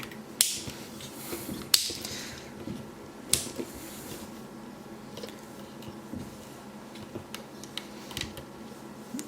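Ratchet joints on an MPM-10 Starscream Transformers toy give scattered sharp clicks and creaks, close and fairly quiet, as the figure's parts are moved.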